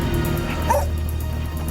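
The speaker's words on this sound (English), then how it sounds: "She barked and stopped" A dog barks in a short burst amid a dim, steady background hum after an earthquake, the bark close and moderately loud before falling quiet.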